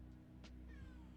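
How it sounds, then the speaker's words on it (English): A house cat gives a short, faint meow or two, heard softly against a steady low hum in a quiet room. "Oh, my cat's here."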